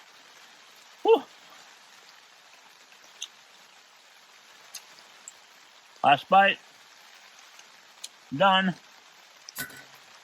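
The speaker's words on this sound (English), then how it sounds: "It's just raining right now." Rain falls steadily at a winter mountain campsite, a soft, even hiss throughout, broken by a few short bursts of nearby speech.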